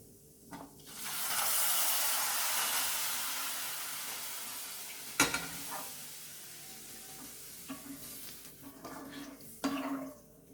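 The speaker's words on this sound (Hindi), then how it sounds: "अभी हम इसमें मिल्क ऐड करेंगे" Milk is poured into vermicelli fried golden brown in a pan for seviyan kheer. A loud sizzling hiss swells, then slowly fades, followed by a few clinks of a stirring utensil.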